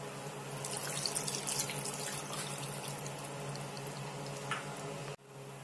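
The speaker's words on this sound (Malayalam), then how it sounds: "ഇതിലേക്ക് 1 കപ്പ് വെള്ളം കൂടെ ഒഴിച്ചു കൊടുക്കാം." A cup of water pours into a pan of Kerala-style chicken varattiyathu curry, a steady splashing flow for about five seconds that cuts off abruptly. No talking.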